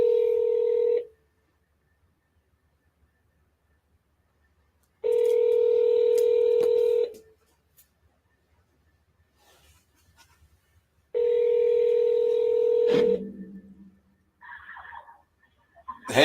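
Outgoing phone call ringback tone, three steady pulsed rings about five seconds apart with silence between, followed by faint handling noises as the line connects.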